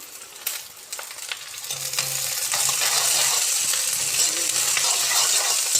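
Onion, curry leaves and garlic sauté in a hot pan with a loud, continuous sizzling crackle, punctuated by a few clinks of a utensil near the start.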